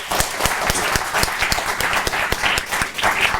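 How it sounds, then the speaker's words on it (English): A public talk audience gives the speaker a round of applause, many hands clapping in a brisk, dense patter that fills the room. "Can I propose we have another round of applause to Marcus?"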